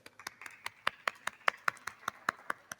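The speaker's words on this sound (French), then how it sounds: "On vous applaudit ici à Aurillac." A small forum audience in Aurillac, at an agricultural startup event, claps in a steady run of distinct, fairly sparse hand claps that sound moderately close and carry no talk over them.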